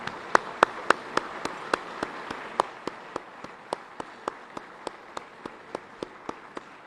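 Clapping at a Hall of Fame induction ceremony for past inductees: steady, evenly spaced single claps, fairly faint, with no voices over them.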